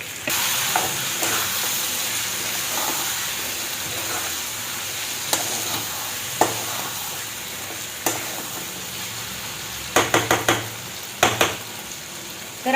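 Mutton frying in masala on a raised flame, a loud constant sizzle and hiss with scattered ladle scrapes and knocks against the pan, and a quick cluster of clanks near the end.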